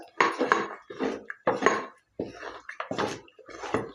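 A spoon scrapes and clatters against a pot while thickening poha batter is stirred over a high flame, in irregular bursts with brief pauses, close and fairly clear.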